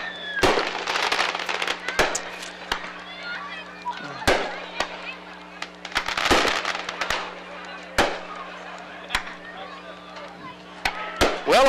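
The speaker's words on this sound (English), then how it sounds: "you may be able to be home by the time the fireworks show is over" A fireworks display after a high school football game crackles and booms with repeated sharp bursts at irregular intervals, some distant and some closer, over steady background noise and crowd talk.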